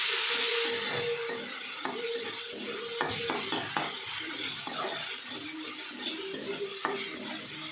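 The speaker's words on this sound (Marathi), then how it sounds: "आता टमाटर छान परतून घ्यायचं" Finely chopped tomato sautéing with fried onions in a pan for a cauliflower dish, a close sizzle broken by frequent spatula scrapes and clinks against the pan, no talking.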